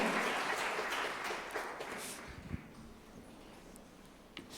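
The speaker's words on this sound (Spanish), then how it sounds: "Dale un aplauso al Señor" Steady applause from a church congregation fills the space, a dense wash of clapping that gradually thins and fades toward the end.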